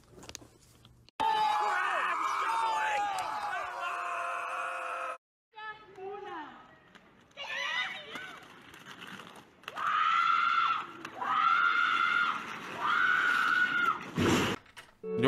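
People in short meme clips scream and shriek in repeated loud, high bursts, some sounding almost like a horse's whinny, with brief gaps and quieter moments between the outbursts.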